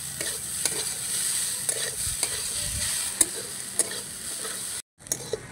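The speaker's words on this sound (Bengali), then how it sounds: "পেঁয়াজ কুচি দিয়ে নাড়াচাড়া করে নিয়েছি" A spoon stirs chopped onion into grated potato in a pan with a little oil, giving a soft continuous sizzle broken by sharp scraping clicks of the utensil, close up, with a brief drop in sound near the end.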